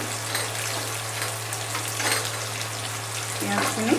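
Onions sizzling steadily in a pan as they fry toward dark brown, a continuous close crackle with a low hum underneath and a few small clinks near the end.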